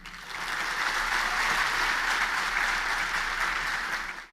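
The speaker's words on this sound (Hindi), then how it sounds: "ताली तो बजा दी आपने" A large lecture audience breaks into applause, a smooth, steady roar of many hands clapping together that holds evenly and then cuts off abruptly.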